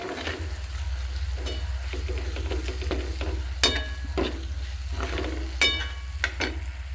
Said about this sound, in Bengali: একটু জল দিয়ে মশলাটা কষে নিচ্ছি